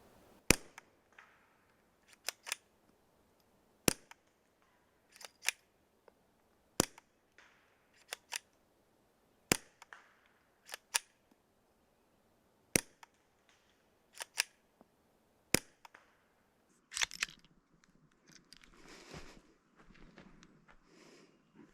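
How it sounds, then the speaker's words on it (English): Suppressed .22 rifle shots through a Silencer Co Sparrow 22 suppressor come as a series of sharp, quiet clicky cracks, about a dozen spread irregularly with pauses. Faint handling noise follows near the end. "I'm going to shoot this way, and hopefully you get a better idea of what it sounds like"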